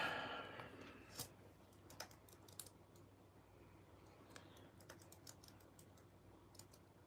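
Fingers type on a computer keyboard, producing soft, irregular keystroke clicks that come in small clusters over a low steady background hum, with no one speaking.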